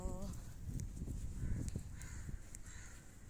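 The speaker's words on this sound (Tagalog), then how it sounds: "ang ingay ng ibon" Loud birds call repeatedly in harsh bursts, close by, over a rumbling background with brief thuds, heard while walking outdoors between Mercato and Satwa under a sky threatening rain.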